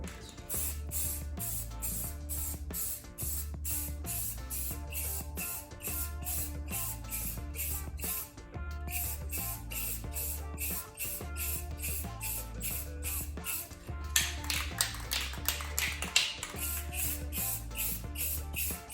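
Rust-Oleum Specialty Lens Tint aerosol spray paint hisses steadily from a 10 oz can in long continuous passes under loud, rhythmic background music.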